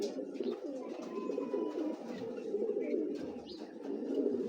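A racing pigeon close by gives repeated low, throaty coos in a soft rolling rhythm that continues throughout without any talk.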